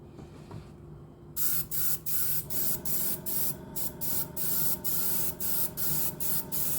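An airbrush or spray can lays a coat of paint on a model of HMS Queen Elizabeth in a series of short, even hissing bursts with regular brief pauses, close and steady.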